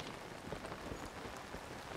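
Rain pours steadily in Zelda: Tears of the Kingdom, a broad continuous wash of patter with scattered drop hits, even in level and without any voices.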